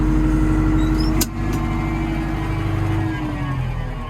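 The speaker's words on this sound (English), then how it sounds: "Good old tractor." A farm tractor engine idling with a steady low rumble close by, one brief clunk partway through, and the drone continuing evenly throughout.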